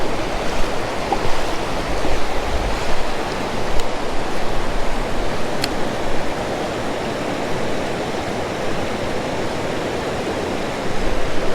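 Creek waterfall on a trout stream, a loud, steady, broadband rush of falling water that stays constant and close from start to finish, with no voices.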